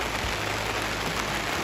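Steady rain patters on a tent at a motorcycle campsite in Estes Park, Colorado, a dense, even hiss of drops close by with no other sounds breaking through.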